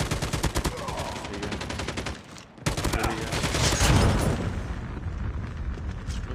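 A heavy gun in Call of Duty Mobile fires in fast, dense bursts that break off briefly and then resume, loud and close, with a short spoken phrase in between.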